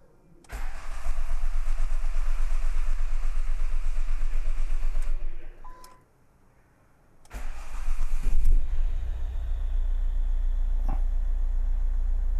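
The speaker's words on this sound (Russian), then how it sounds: "нужно выполнить холодный запуск, холодную прокрутку, для того, чтобы турбина набрала масло и в масляной системе поднялось давление" A 2011 Ford Mondeo engine cold cranking after a turbocharger replacement: a loud, steady starter whirr for about five seconds, a pause, then a second long crank, heard close up.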